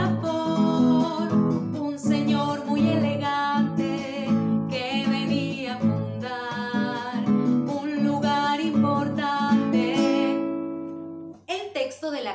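Solo guitar plays the Argentine tune "Vuelteando", a steady strummed and plucked accompaniment with a clear rhythmic pulse, close and alone, ending with a brief pause before the next phrase.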